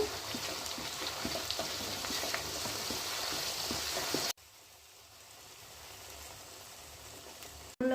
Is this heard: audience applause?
no